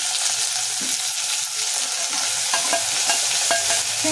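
Mint leaves sizzle and crackle in hot oil for a tempering, a loud continuous frying hiss with scattered pops and a few soft stirring clinks close by.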